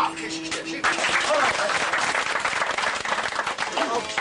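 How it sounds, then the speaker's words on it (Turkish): Audience applause at a Turkish aşık poetry gathering where two folk poets trade verses, a dense burst of clapping that swells after a brief lead-in and continues steadily, close and loud, with voices underneath. "Alkış işte"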